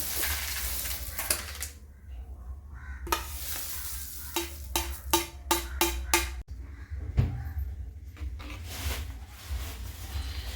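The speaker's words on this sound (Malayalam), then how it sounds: "അപ്പോൾ സേമിയ നമ്മൾ ഇട്ടിട്ടുണ്ട്. 15 മിനിറ്റ് നമ്മൾ ഇളക്കി കൊടുക്കണം." Vermicelli payasam being stirred in boiling milk in a pot, a loud close scraping and clinking of the spoon against the pan in a run of quick strokes over a steady bubbling simmer, with no speech.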